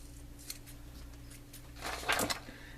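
Scissors cutting material for a DNA 75 box mod build, several quiet snips spaced out, then a louder cluster of close cuts toward the end, heard alone.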